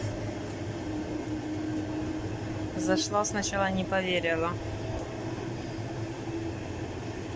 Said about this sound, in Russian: Такой поезд крутой.